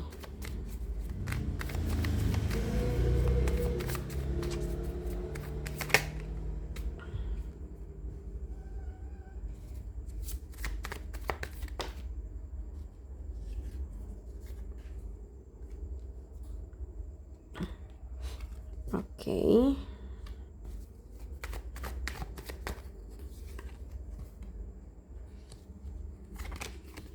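Tarot cards shuffled and laid out during a Leo zodiac reading, soft papery riffles and flicks with scattered taps and clicks, close and quiet, with a brief spoken word.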